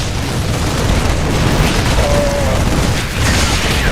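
A starship explodes during a StarCraft II Zerg campaign scene, a loud, continuous rumbling boom with roaring debris and low crackling that stays dense and heavy throughout.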